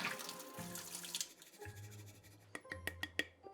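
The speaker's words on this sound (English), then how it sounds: "you're gonna drain the water out like this" Water draining out of a sprouting jar of soaked broccoli seeds through a small metal screen into a sink, a steady close trickle that ends in a few sharp drips and splashes.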